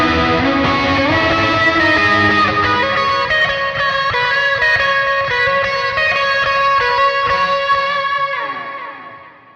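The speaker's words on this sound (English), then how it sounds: "a crunch tone with a lot of delay and reverb as well" Electric guitar through an M-VAVE Tank G, with a crunchy, lightly distorted tone, rings out through long delay repeats and reverb, notes blending into a washy tail that fades at the end.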